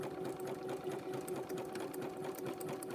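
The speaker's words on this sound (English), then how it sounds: "it's sewing good now, so I think it's time for me to clean my sewing machine" Domestic sewing machine running continuously in a steady, close mechanical whir with a fast rhythmic stitching chatter and a constant hum, no talking.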